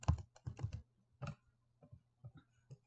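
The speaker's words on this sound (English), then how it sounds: "select the font and type her name" Computer keyboard typing in short clustered bursts of keystrokes with brief pauses, entering a name during a craft design session, close and alone.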